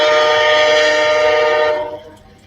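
A train passing close by, heard through an open window, with a loud sustained horn blast that holds steady and then fades off toward the end. No one speaks.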